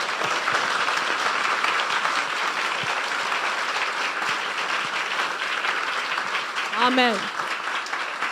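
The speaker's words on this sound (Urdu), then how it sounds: "یسوع کے لیے زوردار تالیاں بجا دیں." A church congregation applauds loudly for Jesus during a sermon, steady dense clapping throughout, with a voice calling out briefly near the end.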